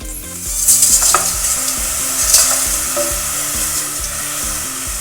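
A box of coconut milk simmers and reduces in a pan for Thai green curry, giving a steady bubbling sizzle throughout, with occasional sharper stirring scrapes and a faint low tonal pattern underneath.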